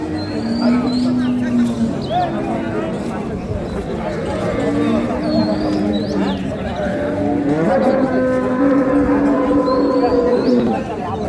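Dairy cows of a local breed, some with calves, mooing repeatedly at a busy rural cattle market in Dinajpur, the low drawn-out calls rising above a steady crowd murmur and nearby talking, with faint bird chirps in the background.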